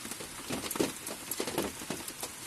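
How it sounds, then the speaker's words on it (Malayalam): Mustard seeds pop and crackle in hot oil in a pan while cooking at an evening van campsite. The quick, irregular pattering bursts come close together. "കടുക് പൊട്ടുന്നുണ്ട്."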